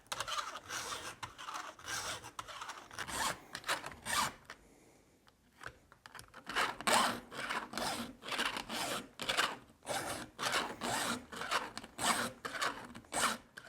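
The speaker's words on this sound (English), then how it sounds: "the flat file for filing off the depth gauge is a two-sided flat file" Flat file rasped across the depth gauges of a chainsaw chain during a test of a STIHL sharpener, a close, steady run of rhythmic scraping strokes with a short pause partway through.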